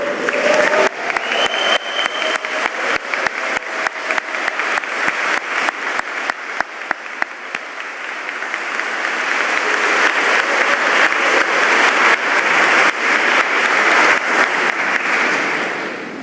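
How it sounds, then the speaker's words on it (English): Graduation ceremony audience standing to applaud and cheer for business program graduates, a loud, sustained wash of clapping and shouts that swells toward the end and holds steady for many seconds. "So please stand and turn and cheer as loud as you can."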